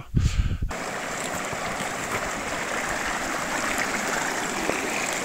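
A river flows steadily with a broad, continuous rushing of water, preceded by a brief burst of louder knocking and splashing at the start.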